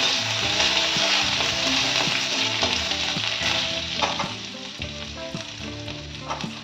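Chopped ginger frying in a pan gives a loud, steady sizzle throughout, with no one speaking.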